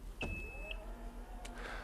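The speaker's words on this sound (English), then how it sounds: "after the buzzer sounds, the liftgate will automatically open" A Mazda 6e sedan's electric liftgate opening automatically: a short electronic beep, then a soft, quiet motor whir as the gate rises, heard close in a calm setting.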